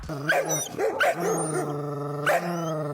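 A dog barks and growls up close in loud, repeated bursts, with a steady growl running between the barks.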